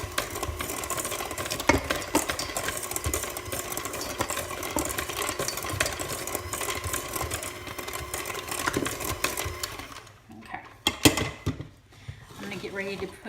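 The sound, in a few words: electric mixer mixing cake batter on low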